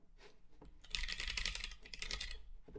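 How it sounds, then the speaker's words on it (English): Keys clatter on a computer keyboard in a quick, irregular burst of clicks, starting sparse and then running dense and close, quiet overall with no voices. "here's my keystrokes"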